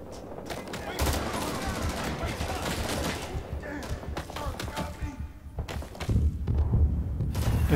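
Gunfire from the Rising Storm 2: Vietnam video game at Hue City, a dense battlefield mix of repeated shots and heavy thuds running throughout, loud and continuous with bursts building toward the end.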